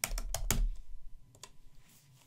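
A few quick keystrokes on a computer keyboard, entering a command in MATLAB, in a short cluster of close clicks followed by two more taps and then quiet.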